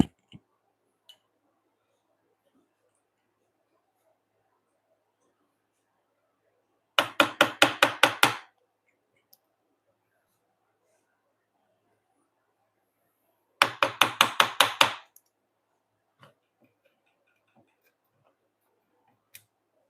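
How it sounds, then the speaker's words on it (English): A chisel working wood dovetails in a workshop, heard as two separate bursts of about six rapid, sharp taps each, close and loud against a quiet room with a few isolated knocks between. "Put the mic over here for a second while I chisel."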